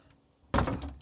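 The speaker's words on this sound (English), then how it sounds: "Got some nice hardwood pocket doors" A hardwood pocket door in a Monaco Signature motorhome slides along its track, a sudden close, loud rumbling glide that starts abruptly after a quiet moment and carries on to the end.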